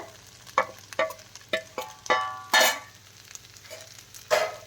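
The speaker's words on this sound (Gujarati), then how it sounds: "હવે આપણે આ ફ્રાય કરેલા બટેટા છે એ બટેટાને એમાં એડ કરશું" A spoon scrapes and knocks in a pan as fried potatoes are stirred into rice, several separate clattering strokes spaced irregularly over a faint sizzle, close and moderately loud.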